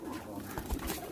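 Teddy pigeons, a home-bred loft flock, give soft low cooing calls close by, a few rounded coos over a murmuring backdrop in the evening.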